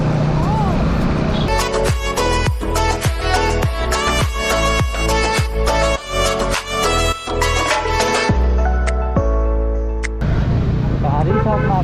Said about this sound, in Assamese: লাইন বাই লাইন গাড়ী